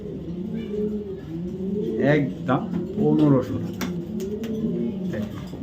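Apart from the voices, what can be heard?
racing pigeon cooing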